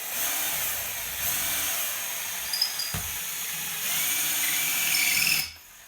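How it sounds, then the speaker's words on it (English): A power drill bores into a wall at low speed, a steady whirring grind that runs almost continuously and then cuts off abruptly near the end. "Come back with the drill. You notice I'm not going high speed on these things."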